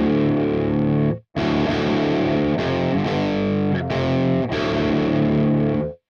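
A distorted electric guitar runs through the Audio Assault Bulldog amp simulator at default settings, playing loud, thick sustained chords with a brief gap, full and unbroken, with no voice over it.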